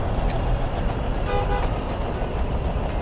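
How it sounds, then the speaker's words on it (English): Car horns toot at a blocked intersection on the Las Vegas Strip, a short honk standing out over constant loud traffic rumble and idling engines. "Here go all the honking of the horns because they're sitting in the intersection."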